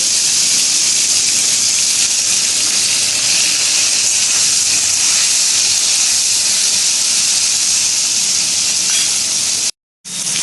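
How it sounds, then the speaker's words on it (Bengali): Cauliflower pieces frying in a pan for khichuri, a loud, continuous close-up hiss and sizzle that holds steady before a brief cutout near the end. "এবার ভাজবো ফুলকপিগুলো এবার ফুলকপিগুলো ভেজে নেব"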